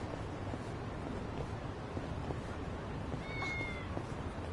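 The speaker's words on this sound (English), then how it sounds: "Oh, cat." A cat meows in Yakuza: Like a Dragon, heard over steady ambient street noise. The meow is short, faint and drawn-out.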